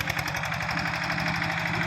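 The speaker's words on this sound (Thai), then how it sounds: "ด้วยการเอารถไถมา ดันนะครับเนี่ย ดันให้เป็นกองๆแล้วเพื่อจะทำการตัดใหม่เนี่ย" Yanmar TF115 LM small multipurpose tractor engine runs steadily nearby with a rapid, even diesel chug and rattle, heard alone.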